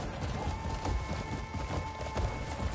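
Galloping horse hooves in the Crimson Desert video game, a steady clip-clop rhythm running continuously under a dense layer of game ambience and music.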